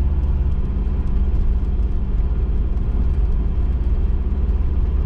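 Car engine pulling in third gear through city streets near San Antonio's international airport, a loud, constant low rumble and whir from inside the cabin, without voices.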